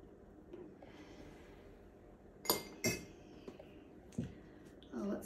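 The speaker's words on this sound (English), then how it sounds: "then we'll stir it up a little more" Something is stirred in a glass during a simple home science experiment, giving a few scattered clinks and taps against the glass, quiet and close, with soft breathing and handling noise between them.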